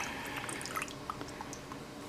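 Noodles being stirred with red sauce and a cup of water inside a Curtis Stone 2-quart multi-cooker, giving close, continuous wet squishing and dripping sounds with small splashes throughout.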